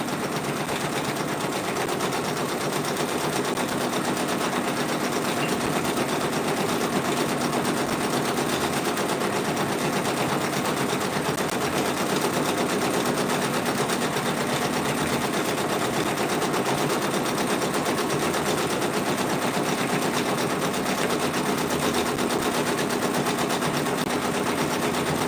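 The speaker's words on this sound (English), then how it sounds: "We are just stitching on a Friday, guys" A Brother Persona PRS100 embroidery machine stitches patches with a continuous rapid mechanical needle chatter, steady and even throughout with no pauses or voices.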